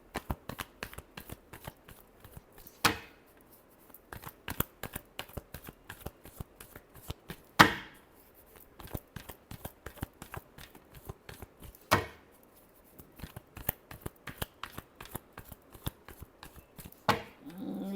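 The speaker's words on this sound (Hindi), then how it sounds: "Last shuffle." Tarot cards are shuffled by hand in a quiet room, with rapid close crisp riffling clicks broken into bursts and several sharper slaps where the deck is squared.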